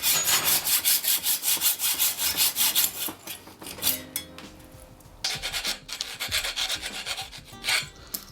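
A hand saw cuts a bicycle fork's steerer tube to length in a workshop, with fast rhythmic rasping strokes that pause briefly midway, then resume in steady back-and-forth passes, close and loud with no talk.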